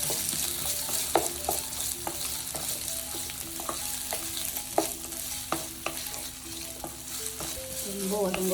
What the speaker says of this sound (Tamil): வெங்காயம், பச்சை மிளகா, இஞ்சி பூண்டு பேஸ்ட்டு இதை போட்டு நல்லா இதை